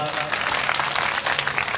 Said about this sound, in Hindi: इनके लिए ताली तो बजाओ एक बार